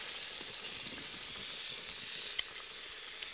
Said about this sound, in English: We'll just fry that until it's nice and crispy.